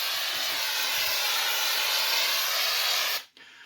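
A steady, loud hiss of aerosol wall texture spray on a drywall patch for about three seconds, then it cuts off abruptly, leaving quiet room tone.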